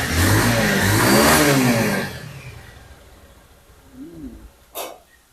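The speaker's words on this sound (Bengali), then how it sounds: "টোকায় টোকায় স্টার্ট গাড়ির সাউন্ডটা শুনেন ভাই" A used secondhand motorcycle engine revs hard and loud for about two seconds, then drops back to a low idle; a bird's short call and a sharp click follow near the end.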